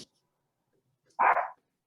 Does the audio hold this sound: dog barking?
yes